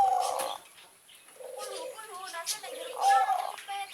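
A zebra dove (perkutut) gives its rhythmic, mellow cooing in repeated phrases, loud and close, with quieter gaps between the phrases.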